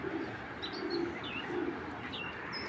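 A female racing pigeon coos in soft, low, repeated phrases at close range. Faint chirps from other birds come through in the background.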